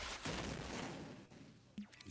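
Homemade explosion sound effects play back in quick succession, a couple of rumbling booms and a sharp blast, fairly faint and muffled, with no one speaking over them.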